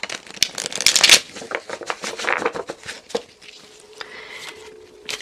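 Tarot cards shuffled by hand, a dense burst of riffling and flicking at first, then scattered softer taps and slides of cards, close and fairly loud.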